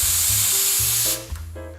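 An espresso machine's steam wand lets out a loud, steady spray of steam up close, then it cuts off and a short softer hiss and gurgle follow.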